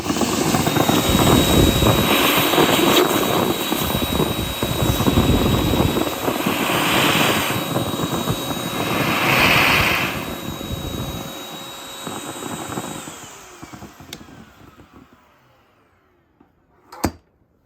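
An Aerus Lux Guardian vacuum cleaner runs steadily with a loud, continuous motor roar and airflow whine, fading near the end to a brief final thump.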